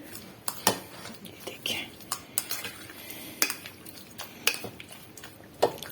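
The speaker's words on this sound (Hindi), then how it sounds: "और इन सबको अब हम अच्छे तरीके से मिक्स कर देंगे" Chicken is mixed with soy sauce and chilli sauce in a bowl, sharp spoon clinks and scrapes against the dish coming in irregular bursts, close and fairly quiet.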